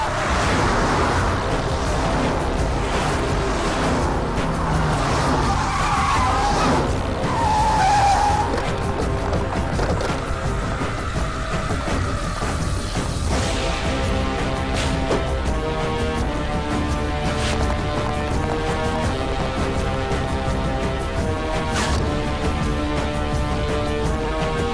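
A car skids with squealing tires, loud and close, in a dramatic film scene, with music and impact effects mixed in.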